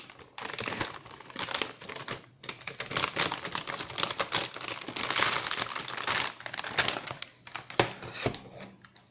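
Plastic film peeled and crinkled off an MSI GTX 950 Gaming 2G graphics card, a dense, continuous crackling and rustling close by with sharp ticks, lasting throughout with only brief dips.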